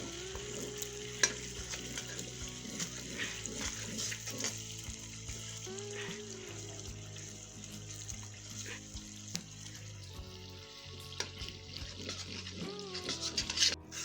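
Semolina roasting and being stirred in a pan over medium heat, a steady dry sizzle with repeated scraping strokes of the spoon, close and continuous, with no talking.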